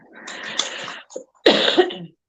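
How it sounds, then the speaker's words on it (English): Two rough, breathy coughing fits close up, separated by a short pause, each a raspy burst lasting under a second. "Excuse the coughing."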